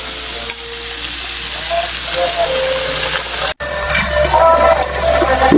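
Pork and enoki mushroom rolls fry in a pan with a loud, continuous sizzle and crackle, while faint music plays underneath and cuts out for a moment partway through.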